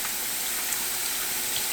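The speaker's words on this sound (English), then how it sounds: "clean them out with some water and get anything off that meat that you can" Water runs steadily into a bowl as skinned bullfrog legs are rinsed clean, a continuous close hissing splash with no pauses and no talking.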